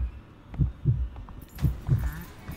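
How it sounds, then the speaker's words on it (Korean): A slow, heavy heartbeat thumps in pairs, low and muffled, in the White Day remake horror game; four beats sound over about two and a half seconds under a faint hum. "심장 소리 들려?"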